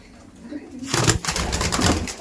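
Abluk pigeons in a loft, including young birds, cooing and stirring in a busy cluster of calls that starts after a quiet moment and carries on close and fairly loud, with wing or body movement mixed in.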